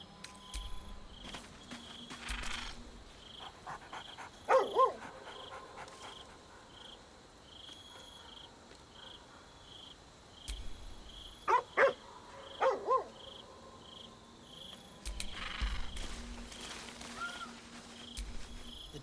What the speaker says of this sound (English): The dog wags his tail, a small bag clenched between his teeth.